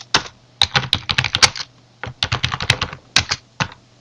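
Fingers type on a computer keyboard close up, a clattering run of keystrokes in three quick bursts separated by brief pauses.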